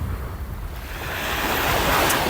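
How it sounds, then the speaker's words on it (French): Wind blows across an open shore by the lagoon and salt pans of Solinas, Sardinia, rumbling over the rush of surf, growing slightly stronger toward the end. "C'est ce vent qui est un petit peu pénible."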